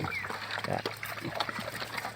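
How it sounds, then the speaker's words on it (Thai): Pigs on a wild boar farm squeal and grunt harshly in a brief, close, agitated burst, as if fighting. "นี่ปัญหานะครับที่หมูกัดกัน"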